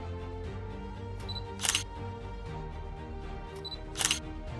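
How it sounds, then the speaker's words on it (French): Two short, bright shutter-like capture clicks from a UIG Watch cavity, treasure and precious-metal detector, spaced about two seconds apart over a steady low background hum. "attendre que l'appareil capture l'image avec un son de capture"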